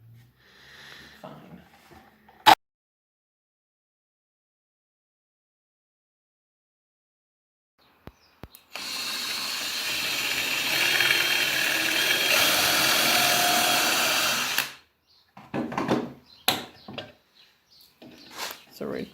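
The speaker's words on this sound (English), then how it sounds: "So we're pocket screwing the headboard together" A drill drives pocket hole screws into a wooden bed frame, one sustained whirring run of several seconds after a quiet stretch, with clicks and knocks around it.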